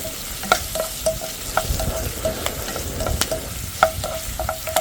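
Two sprigs of curry leaves are stirred in a pan of red pork curry, giving a continuous close sizzle and frying crackle broken by repeated sharp clinks and taps of a spoon against the pan.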